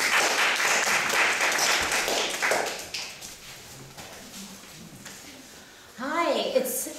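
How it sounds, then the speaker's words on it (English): Audience applause welcoming speakers at a small talk event, a burst of clapping that fades after a few seconds, followed by quieter room noise and a voice beginning to speak. "Let's welcome our speakers with a big round of applause."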